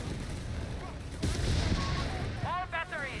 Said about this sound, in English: Registered artillery being used at this point here